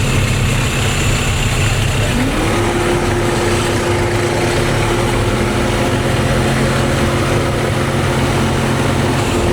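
A turbo diesel John Deere engine fitted in a Harley motorcycle drones steadily on a dyno, a loud, continuous low rumble with a rising whine as the revs climb partway through.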